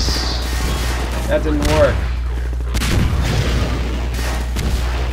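Rocket explosions and combat fire in the video game Half-Life 2, heavy rumbling blasts under a steady low roar, with someone talking over the noise.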